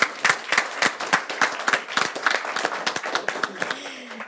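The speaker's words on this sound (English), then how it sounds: "Please give yourselves another round of applause." Crowd at a city press event clapping in a steady, fairly slow beat, individual claps clearly separated, moderately loud and close, tapering off near the end.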